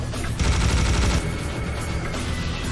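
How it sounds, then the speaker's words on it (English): Enemy gunfire in Serious Sam, a loud dense burst of rapid shots that keeps up steadily across the whole short moment. "there is this dude over there shooting at us"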